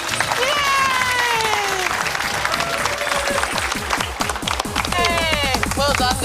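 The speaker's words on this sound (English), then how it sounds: "Give her a round of applause." A television studio audience on a 2008 Channel 10 show bursts into loud sustained clapping mixed with whoops and cheering voices, with people talking over it.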